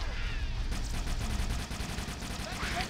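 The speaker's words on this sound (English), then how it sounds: "Random firing!" Dense automatic gunfire from Halo: Combat Evolved crackles in rapid bursts, loud and close, with overlapping shots forming a sustained barrage throughout.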